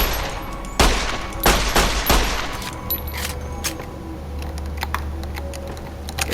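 Gunfire in the video game Fallout New Vegas, during a battle in Primm: a few sharp, loud shots close together in the first seconds, then fainter scattered bursts over a low steady game ambience.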